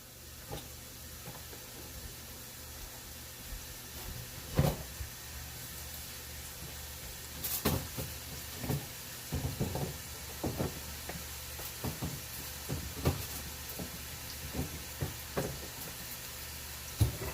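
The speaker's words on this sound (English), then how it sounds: "These onions are making a little noise." Onions sautéing for a tomato sauce give a faint, steady hiss with scattered clicks and knocks as the pan is worked, with no talking.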